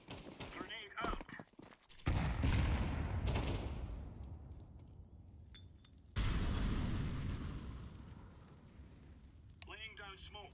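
Counter-Strike 2 combat: loud gunfire bursts and a grenade explosion with a long rumbling decay, followed by a second loud blast that fades out, with brief in-game radio voice lines between.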